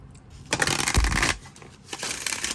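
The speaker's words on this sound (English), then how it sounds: "So I've been splitting it in 2 to give it a good shuffle" A deck of tarot cards being overhand shuffled, with soft papery riffling bursts, one long pass followed by a shorter one, close and fairly quiet.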